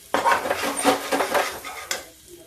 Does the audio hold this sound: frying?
yes